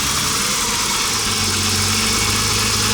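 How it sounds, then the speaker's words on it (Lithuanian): A BMW E30 engine idles steadily with its revs held slightly high, a continuous low mechanical hum and vibration running throughout with no talk. "Sukyla apsukos biškį."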